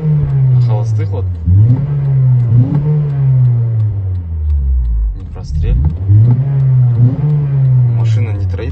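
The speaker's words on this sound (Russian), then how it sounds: "Машина не троит, как будто вот стреляет, как будто вот сбито зажигание." A car engine, stopped along the Astana–Almaty highway and suspected of an ignition misfire, revs up and down repeatedly, loud and close, with uneven surging rises and falls in pitch.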